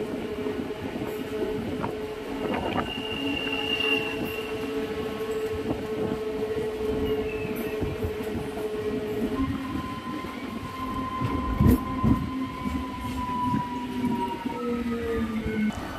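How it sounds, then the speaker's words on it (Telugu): A MEMU train pulls into platform 2 at Pembarthi railway station with a loud, sustained rumble of wheels and carriages. Long drawn squeals and tonal whines from brakes and wheels run throughout, with a heavier clank near the end. "ఉదయం 11 గంటల 10 నిమిషాలకు మన train Pembarthi railway స్టేషన్లోని platform number 2కు చేరుకుంది."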